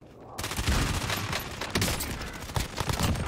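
Sustained automatic gunfire rattles through a Call of Duty match, dense overlapping shots with occasional sharper cracks, fairly distant and muffled under a busy battlefield mix.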